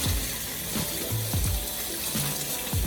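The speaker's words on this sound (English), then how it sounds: "Rinse it with cold water." Water runs steadily from a tap, a continuous rushing splash with a few gurgles and clinks of frozen seafood shifting in the sink under cold water.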